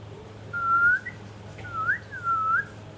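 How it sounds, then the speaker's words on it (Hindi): A pet parrot whistles clear, sliding tonal notes: one rising whistle, a short pause, then a longer wavering phrase, close and distinct over a faint steady hum. "सारा सीटी मारती है ना बाबू? सीटी मार के दिखा दो।"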